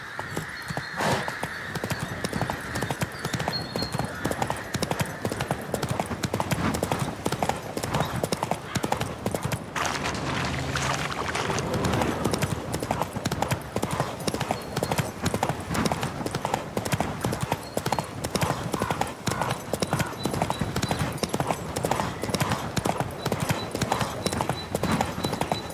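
Rapid, rhythmic clip-clop of a galloping horse's hooves in a video game, steady and close throughout, with a brief whinny early on and faint game ambience underneath.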